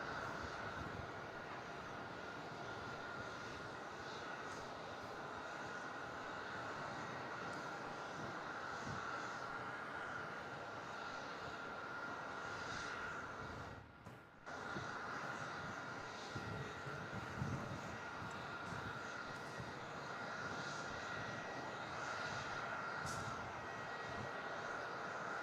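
A Qantas airliner inbound from Brisbane rumbles at Melbourne Airport, a steady broadband engine roar that holds throughout with a brief dip midway, heard from a distance.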